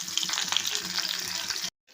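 Curry leaves and garlic cloves sizzle in hot oil in a pan for tomato chutney, a close, continuous crackling fry with a few stirring scrapes before it abruptly stops.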